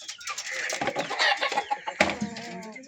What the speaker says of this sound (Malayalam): ഇവിടെ ഉണ്ട് പല പല കേജിൽ നാടൻ പൂവൻ കോഴികൾ.